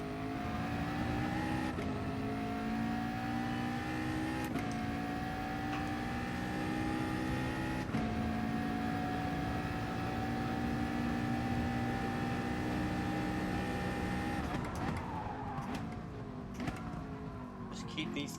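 A Nissan GT-R race car in GT Sport during an FIA warm-up session drones at high revs with a steady engine whine. The pitch dips briefly at a few gear shifts. It sits continuous and fairly quiet under faint game audio.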